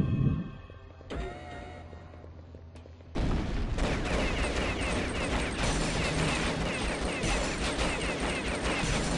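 Gunfire while shooting aliens in the video game Alien Shooter: after a few sparse early shots, dense continuous rapid-fire bursts start abruptly and keep going loud and steady to the end.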